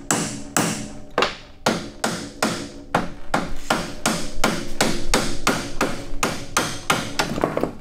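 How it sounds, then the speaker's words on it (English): A hammer strikes a stuck part on a Polaris snowmobile in a run of about twenty sharp metallic blows, close and loud, at an uneven rhythm that speeds up in the middle, with no talk. "we're going to just hammer this thing out"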